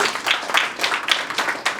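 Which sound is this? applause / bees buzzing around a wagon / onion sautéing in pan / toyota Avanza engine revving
applause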